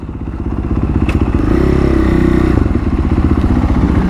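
A Husqvarna 450 FS motorcycle is ridden, its engine droning loud and close with a steady pulsing rumble that swells for a stretch in the middle, with some clatter and thumps from the ride.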